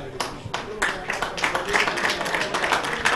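A crowd at an amateur football match between Palizzi and Bovese breaks into scattered applause, uneven clapping rising and falling for a few seconds beneath a commentator's voice.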